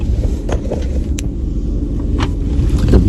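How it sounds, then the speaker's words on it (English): A car's engine rumbles steadily in the foreground, a loud low drone that continues throughout with occasional brief clicks and no talk. "We got a new car."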